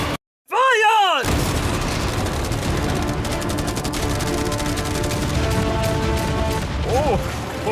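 Cannons and machine guns firing together in a video game battle, a dense continuous roar of gunfire and blasts, loud and close, with a voice briefly audible over it.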